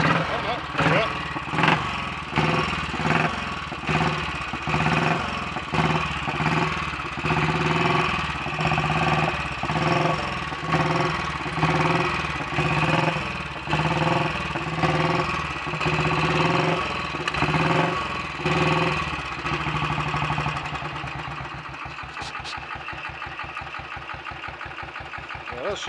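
A Royal Enfield Bullet 500 single-cylinder motorcycle idles steadily nearby with a slow, even thumping beat for the whole stretch, and the rhythm tightens slightly toward the end.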